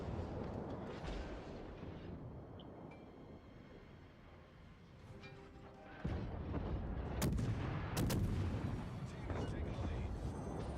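Naval guns fire armor-piercing shells in the World of Warships game: heavy booms over a constant low rumble, with a sharp run of loud blasts near the end. Someone talks throughout.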